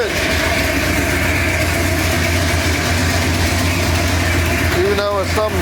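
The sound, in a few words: 1968 Ford Torino engine running with an exhaust leak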